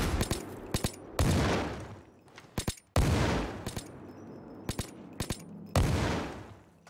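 Fireworks in the Payday 2 video game going off as a rapid crackling barrage, with three big loud bursts each trailing off, interspersed with sharp short pops, all at close range and with no talk.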